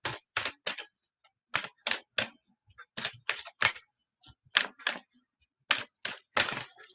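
Tarot cards shuffled by hand, a series of sharp riffling bursts in uneven clusters separated by short silences, close and crisp.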